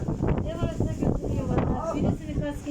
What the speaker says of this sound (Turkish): Evet çok da rüzgar var.